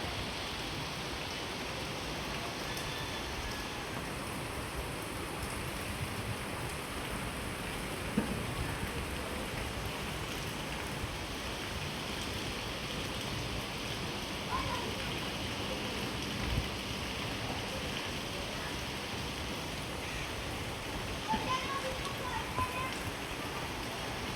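Heavy rain pours steadily in a dense, even hiss across the whole stretch, with a few louder drops splashing close by.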